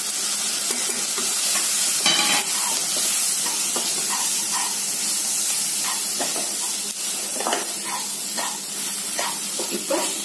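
Brinjal with coriander powder, chili powder and salt sautéing in oil in a pan for oil-style brinjal curry. A steady, fairly loud hiss runs throughout, broken by scraping stirs.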